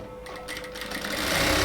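A sewing machine runs a steady stitching pass along the side seam of an XL women's top, with a close, continuous whirring hum that builds slightly over a brief stretch.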